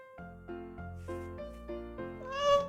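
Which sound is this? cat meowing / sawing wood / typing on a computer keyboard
cat meowing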